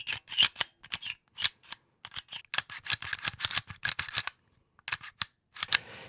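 Arex Delta and IWI Masada pistols have their actions cycled by hand, the Delta gritty and coarse, giving close, crisp mechanical clicks and clacks in quick uneven bursts separated by short pauses.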